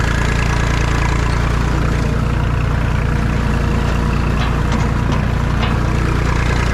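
A tractor engine in second gear at about 1300 rpm runs steadily at a low, even rumble, towing a water-filled roller over a bumpy field, holding constant revs under load with no voices throughout.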